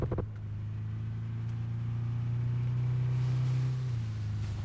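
A steady low engine drone from a vehicle in PUBG on the snowy Vikendi map, holding an even pitch for several seconds with no talk.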